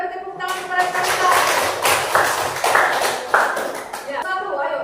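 A classroom audience claps for a student, Karisa, during a group guidance session; a dense burst of clapping builds and holds for a few seconds, then thins out as it ends.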